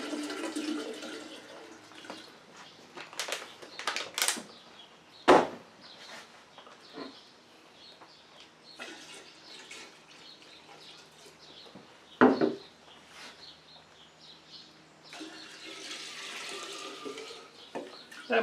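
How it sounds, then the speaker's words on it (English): Bottled water pours into a gin-making batch in a steady splashing and gurgling stream, with a couple of sharp knocks from the container along the way. "You add a bottle of water. I always use bottled water."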